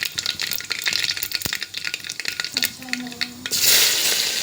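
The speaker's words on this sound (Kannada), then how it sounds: "ಇದು ಚಲೋ ಫ್ರೈ ಆಗಬೇಕು, ಬ್ರೌನ್ ಕಲರ್ ಆಗಬೇಕಿದು." Crushed garlic frying in a pan until brown, a lively crackling sizzle with spatula scrapes and clinks, close up, rising into a louder hiss near the end.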